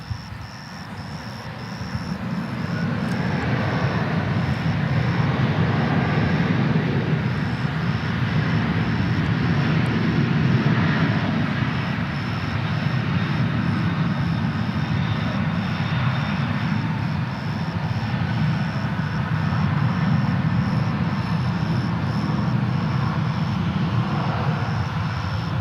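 Airplanes at DFW Airport roar in a broad, continuous, fairly loud jet engine rumble that holds steady for the whole stretch, with no talk over it.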